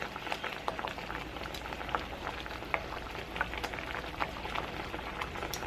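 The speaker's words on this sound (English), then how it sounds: "once it starts boiling just like that" Musubi sauce boiling in a hot pan, a soft, steady bubbling and crackle close by with small popping bursts scattered throughout and no voices.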